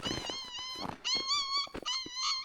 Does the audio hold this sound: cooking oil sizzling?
no